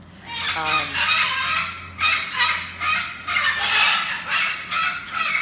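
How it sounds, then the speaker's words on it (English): A cockatoo screeches loudly in a series of harsh, honking calls, several close bursts in quick succession with short gaps between them. "Cockatoos are loud."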